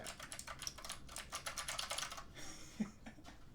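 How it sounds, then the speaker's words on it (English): Rapid clicky keystrokes on a mechanical keyboard, close and crisp in quick bursts, then a pause and a few final taps. "here's the keyboard. Ooh, it's clickety clackety."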